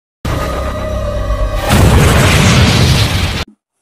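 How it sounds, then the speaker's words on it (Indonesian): A loud film explosion, a dynamite-tipped arrow blast, bursts out with a heavy rumbling boom that sustains for a couple of seconds before cutting off abruptly. "dan ledakan pun kembali terjadi."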